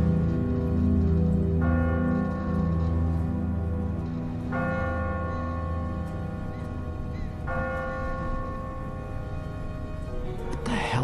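A church bell in a bell tower in The Walking Dead video game tolls three slow, evenly spaced strikes over a steady low droning background, each ring lingering and ringing out before the next.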